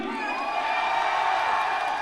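A large esports arena audience at a mobile gaming grand final screams and cheers in a sustained, dense roar, with whoops rising above a steady wash of crowd noise throughout.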